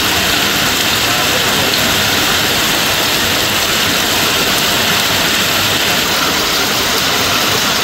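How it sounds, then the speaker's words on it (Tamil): Heavy rain pouring over the suburbs of Chennai, a dense, steady hiss of downpour that fills the whole clip loudly and evenly, with no breaks and no voices. "இதேபோன்று தாம்பரம், குரோம்பேட்டை உள்ளிட்ட புறநகர் பகுதிகளிலும் மழை பொழிவை காண முடிந்தது."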